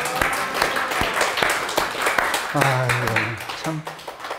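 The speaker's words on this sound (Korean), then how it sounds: "우리 오승용 집사님 박수 한번 쳐주세요" A church congregation bursts into applause during a sermon, a busy scatter of many hands clapping, with someone speaking briefly over it near the end.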